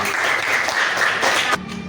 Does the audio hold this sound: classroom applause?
yes